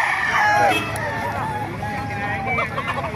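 Gamefowl roosters crow at the Bocaue market, with a loud, drawn-out crow near the start and further crowing and clucking behind a constant crowd babble.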